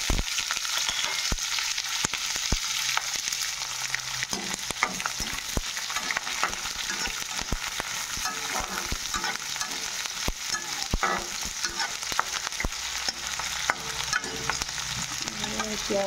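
Chopped onions fry with bay leaf, cloves, cardamom and cinnamon in a pan, a dense, even sizzle punctuated by frequent stirring clicks and scrapes, close and continuous.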